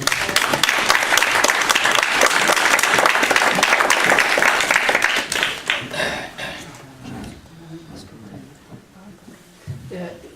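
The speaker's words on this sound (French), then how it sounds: "On applaudit, madame, pour..." An audience at a testimony gathering breaks into loud, dense applause that holds for about five seconds, then thins into scattered claps and fades under murmuring voices and a few closing taps.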